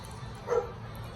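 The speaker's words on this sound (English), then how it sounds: "Dogs barking" Dogs barking in a communal residential property, heard as a single faint bark or yip in the distance over low background noise.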